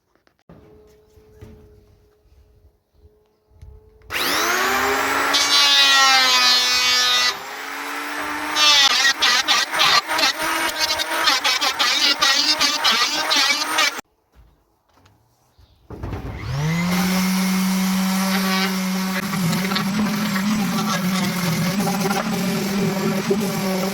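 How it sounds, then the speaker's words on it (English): Power sanding of a costume machete blade: a whirring electric tool spins up, grinds in sustained bursts with pitch shifting under load, stops, then starts again for a long steady run. "We've finished sanding it now."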